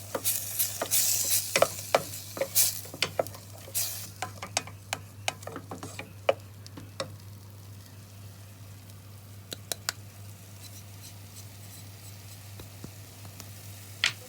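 Couscous being stirred and mixed with spices, a series of scattered light scraping and tapping strokes against the bowl, busier at first and then thinning out, over a steady low hum.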